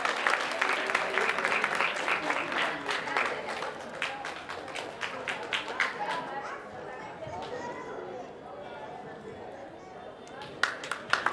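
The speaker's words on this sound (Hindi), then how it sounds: "ताली बजाने में कंजूसी नहीं करें।" An audience at a Bhagavat Katha religious gathering breaks into clapping. Rapid claps dominate the first half, then fade into crowd murmur and chatter before a few scattered claps return near the end.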